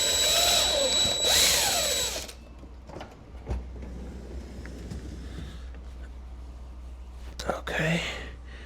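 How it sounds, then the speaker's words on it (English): Power drill with a 1/4 inch bit boring through a Samsung freezer door handle, a brief loud whirring burst at the start, followed by quiet handling noises and faint soft speech. "So I've got my 1/4 inch drill bit. I'm just going to hold that in place and just go on through."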